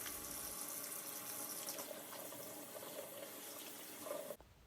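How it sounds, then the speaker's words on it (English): Tap water running into a sink while hands are washed before baking pumpkin cookies: a faint, steady hiss of flowing water that cuts off abruptly near the end. "and then wash your hands"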